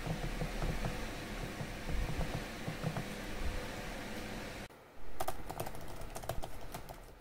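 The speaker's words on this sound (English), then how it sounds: "let's take a listen of the trackpad and the keyboard" Keyboard typing and trackpad clicks on a Razer Blade Stealth 2020 laptop, a steady patter of close keystrokes over a hiss of background noise, broken by a brief pause before quicker, crisper taps resume.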